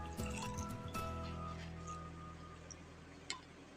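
Water trickling and dripping as it drains off freshly made paneer through a fine milk strainer into a bowl below, a soft steady pour that tapers off with a few brief drops and taps.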